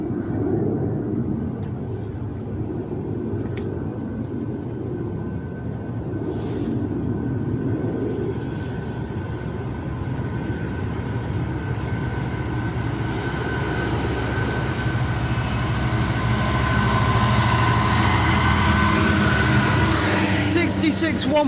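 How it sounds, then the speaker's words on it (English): A freight train at Water Orton rumbles past in a steady, broad roar that builds louder toward the end, with squeals and clatter near the close and a voice talking over the first part. "coming down the line now is the freight"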